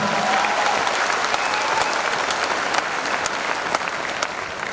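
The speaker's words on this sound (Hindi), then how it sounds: "ताली जोरदार वाली बजा लीजिए" A large seminar audience gives loud, sustained applause throughout, a dense continuous clatter of clapping close by with no talk over it.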